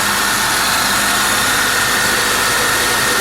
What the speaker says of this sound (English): little bit on the loud side on the alternator